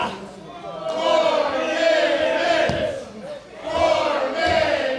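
A crowd at a West Coast Pro Wrestling show cheers and chants in swelling waves, loud and rhythmic, rising and falling twice.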